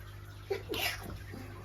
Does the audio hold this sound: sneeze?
yes